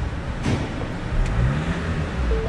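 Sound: van engine revving

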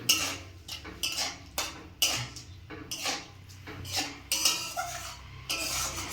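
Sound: stirring fish curry in a pan after adding water

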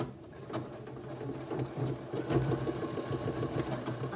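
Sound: sewing machine sewing fabric tray

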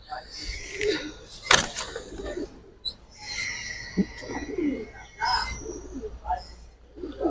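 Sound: pigeon cooing

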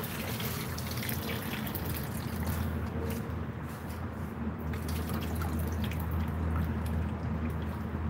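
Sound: water being emptied out from soaking catfish

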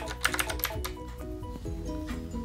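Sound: pressing keys on Dareu EK815S mechanical keyboard

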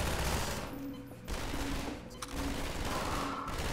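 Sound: automated turrets firing in video game Half-Life 2

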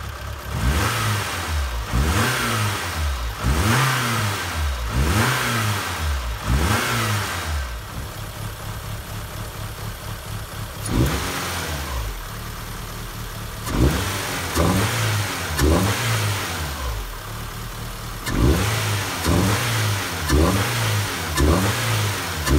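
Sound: Toyota AE86 engine revving with K&N cold air intake

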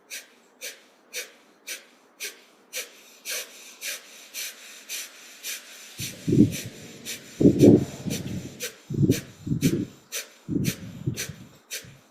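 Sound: breath of fire yoga breathing exercise

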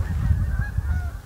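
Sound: flock of Canada geese honking and flying away

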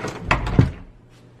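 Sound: door closing as someone leaves the room

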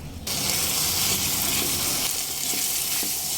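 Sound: spice paste frying on medium flame for egg korma

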